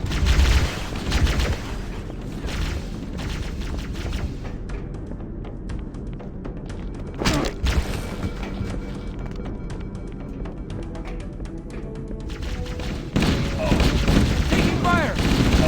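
Gunfire in the video game Halo: Combat Evolved: dense, loud bursts of shots and booms at the start, a sharp blast midway and renewed firing near the end, with game voices and a music bed underneath.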